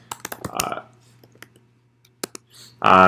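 Sparse keyboard clicks come as someone types a discount code. The keystrokes are quiet and irregular, with short pauses between them, and a voice briefly cuts in at the end.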